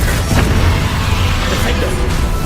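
Confringo fire spell from the Hogwarts Legacy video game bursts with a loud, dense booming blast that rumbles and crackles for a couple of seconds, a steady heavy roar with sharper pops near the start.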